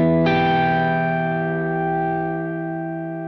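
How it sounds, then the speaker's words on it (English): A single guitar chord struck and left ringing through a BOSS OC-5 octave pedal, thickened by a low octave doubling beneath each note, with reverb and delay as it slowly decays. "It's applying that octave effect to all the individual notes."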